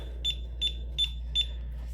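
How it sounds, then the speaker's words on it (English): Four short, evenly spaced high beeps from an Elite thermal tattoo stencil printer, repeating about every 0.4 seconds over a low steady hum, with no talking. "that beep is very persistent"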